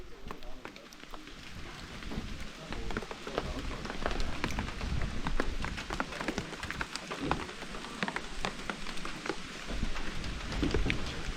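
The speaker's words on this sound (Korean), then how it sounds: "비는 아까보다 좀 더 많이 오고 있습니다" Steady rain on a mountain trail on the Jungsan-ri route to Cheonwangbong peak in Jirisan, a continuous wash of close patter with scattered sharper drops throughout, loud and unbroken.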